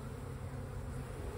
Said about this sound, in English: I see a bunch of bees walking around with that yellow pollen in their pollen baskets.